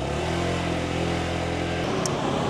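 A small motorbike engine runs steadily and close by, a low continuous hum that holds even, then briefly changes near the end.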